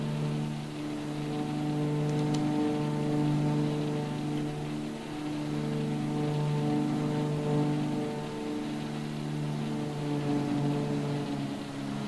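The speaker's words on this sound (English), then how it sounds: "as you can see, the rain is much more robust" Simulated rain falls steadily in flight simulator stormy weather over Juneau, a constant hiss of droplets layered over a droning aircraft engine hum, no talking.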